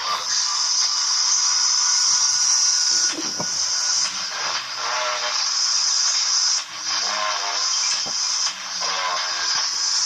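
Tinny, hissy audio plays through a small speaker, with muffled broadcast voices and brief dropouts in the signal.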